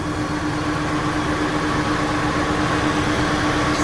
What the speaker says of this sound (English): All right, car's been running for about 5 minutes now.